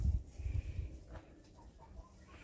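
Chickens roam among cats and kittens in a village yard in Akhtala, Armenia, giving soft, scattered clucks at close range that fade over a couple of seconds, with no talking.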